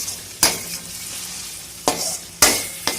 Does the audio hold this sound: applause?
no